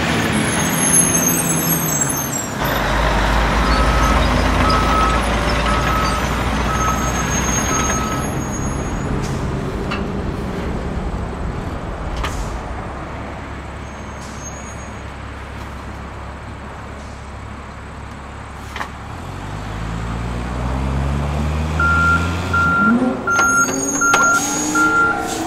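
A Hot Wheels heavy hauler truck rumbles off, its low engine drone building and settling, with a hiss of air brakes, intermittent beeping tones and a faint whine near the end.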